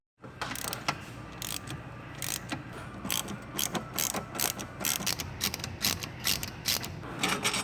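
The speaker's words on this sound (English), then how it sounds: "Now we'll be removing the bolts that are holding the jet pump into place." A ratchet clicks rapidly in quick bursts while bolts holding a Yamaha GP1800 jet pump and its bracket are loosened, a close, crisp mechanical ticking with brief pauses between strokes.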